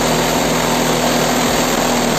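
A Worksite CJS-326 cordless jigsaw cuts through hard meranti wood, a loud, sustained buzzing motor whine with steady rough vibration and no talk over it.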